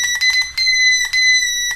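A homemade engine safety project's electronic alarm sounds in loud, piercing beeps of uneven length separated by brief gaps, close and alone.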